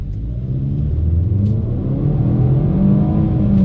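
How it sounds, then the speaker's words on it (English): A 2020 Jaguar XE P300 floored at full throttle in normal drive mode, its engine rumbling and revving steadily upward, loud and close, with no talking over it. "if I have it in normal mode, not dynamic, I get more of a push"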